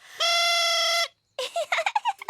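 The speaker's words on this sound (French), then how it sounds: "On appelle celui-là une fauvette à trompe." Cartoon musical instrument in a children's animated show, giving one sustained, bright buzzy tone for about a second, then a quick run of short squawky warbling notes, close and clear.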